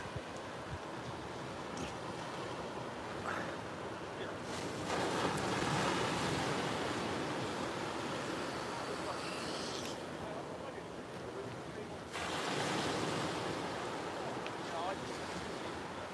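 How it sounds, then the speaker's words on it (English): Ocean waves break on the south coast during a fishing session near the turning tide, a broad continuous surf roar that swells and eases in long surges, with wind buffeting the microphone. "So relaxing sitting here listening to them waves."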